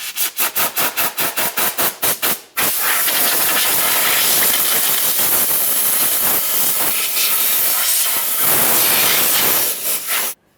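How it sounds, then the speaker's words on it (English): Compressed air blasting debris out of a Jeep Grand Cherokee rear control arm during air spring replacement: about ten short rapid bursts, then a long loud continuous hiss that cuts off near the end. "I'm going to use some compressed air"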